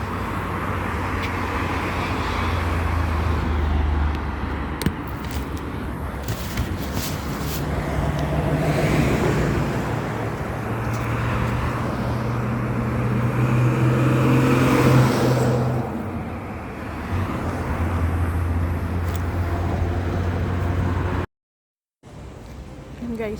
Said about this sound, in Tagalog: Yan na, yung maliit na bus.